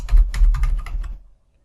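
Quick clustered keystrokes clatter on a computer keyboard while entering text into a spreadsheet, about a second of close, crisp taps ending in silence.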